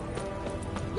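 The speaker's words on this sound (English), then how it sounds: "Run, Roach." A horse gallops in The Witcher 3 video game, its hoofbeats fast and steady under voices and game sound in a brief burst.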